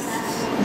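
Japanese Shinkansen high-speed bullet train, a loud continuous broadband rush and rumble of the passing train, steady and close, with no distinct talk over it.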